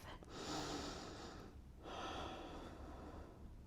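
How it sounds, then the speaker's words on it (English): Two long, deep breaths taken during a yoga session, each a soft, airy inhale-exhale rush lasting over a second, close and alone with no talk. "Take a big deep breath."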